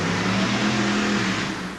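A 1988 GMC pulling truck's engine roaring steadily at high revs during a truck pull at an Anaheim stadium event, loud and sustained over a short stretch, easing slightly at the end.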